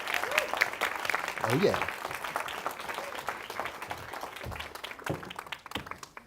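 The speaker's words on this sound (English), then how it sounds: "Can we give him a round of applause?" An audience applauds as an actor is welcomed onto the stage at a film event, a steady wash of clapping with a voice speaking briefly over it.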